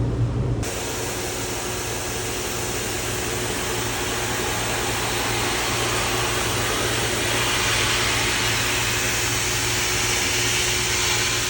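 A blow dryer runs continuously at close range while drying a dog during mobile grooming, a loud steady airy roar that starts abruptly after a brief moment and holds evenly throughout.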